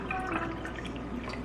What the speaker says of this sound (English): And then fill it up with water.